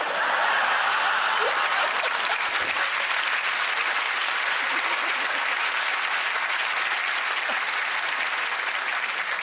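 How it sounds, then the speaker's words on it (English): Steady applause from a studio audience, a continuous dense clatter of many hands with a few faint chuckles mixed in, sustained at even loudness throughout. "Somebody clapped!"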